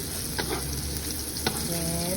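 Onions frying in a pan on an indoor stove, a loud continuous sizzle close by, broken by a couple of sharp clinks from stirring.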